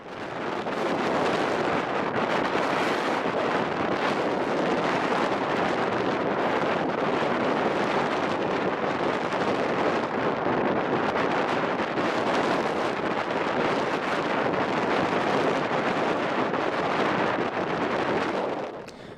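A sailboat motors through strong wind with the mainsail reefed three times and the genoa furled, a loud unbroken roar of wind and churning water with the motor buried beneath it for the whole stretch.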